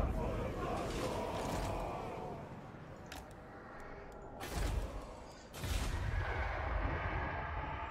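Heavy booming cannon shots in Total War: Warhammer II, two big blasts in the middle over a constant dense roar of battle noise.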